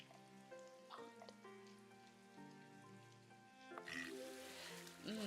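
Steady rain patters in the Block'hood video game beneath a soft musical soundtrack, a faint hiss of drops that swells slightly toward the end.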